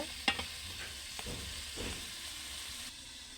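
A vegetable curry being sautéed and stirred in a pan, a soft steady sizzle with scraping strokes of a spoon at a low level and no voices.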